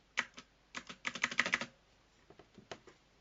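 Bursts of computer keyboard typing, a quick flurry of clicking keystrokes followed by a few scattered, softer taps; close and fairly quiet.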